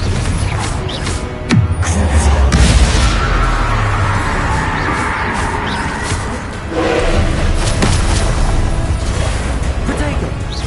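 Confringo fire spell blasts in the video game Hogwarts Legacy, loud booming bursts spread through a busy combat mix, with heavy low rumbles near the start and middle, over continuous battle noise and spoken spell names.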